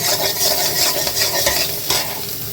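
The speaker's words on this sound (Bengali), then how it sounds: "সুন্দর করে ডিমটা কষিয়ে নিতে হবে" Egg sautéing with spices and whole cumin in a hot pan, a dense steady sizzle with rhythmic spatula scraping, close and continuous, no voices.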